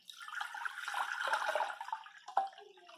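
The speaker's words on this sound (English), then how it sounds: "So I'm going to pour my cold water right in." Cold water pours into a big bowl, a steady splashing stream that trails off into a few drips and a small splash near the end, close by.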